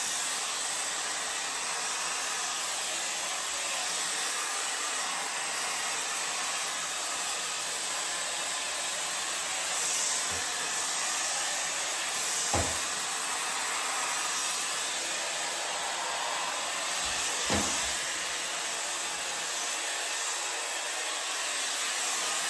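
A Shark Glam hair dryer blows continuously at close range for the whole stretch, a steady loud airy hiss with small shifts as it moves over curly hair, with no speech.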